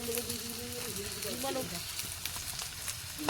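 Onion frying in a pan for a goat meat curry, a steady broadband sizzle with a brief tonal whine partway through and a voice talking over it.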